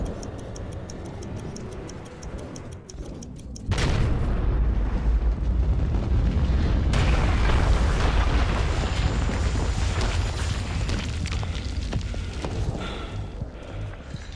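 Explosions in the video game Metro 2033 arrive as a sudden heavy boom that drops into a dense, rumbling roar, with sharp ticking game sounds before it and a lingering crackle afterward.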